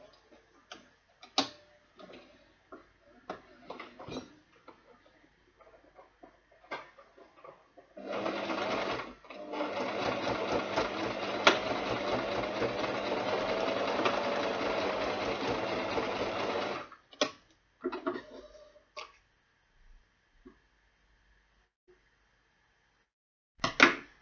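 Sewing machine running steadily through a leather bag for roughly eight seconds, a close mechanical whir set between quiet clicks and handling taps.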